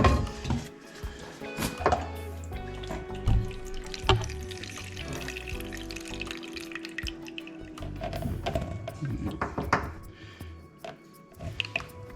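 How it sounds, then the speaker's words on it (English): Drain water from under a kitchen sink empties into a bucket, with splashing, trickles and scattered drips plus a few knocks of handling, close by and fairly quiet. "I am going to get that bucket real quick and empty that drain line"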